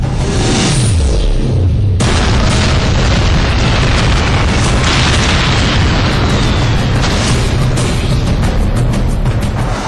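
Bombs released from a fighter jet explode on target, a loud sustained roaring blast with deep rumbling booms filling the whole clip, with no voices.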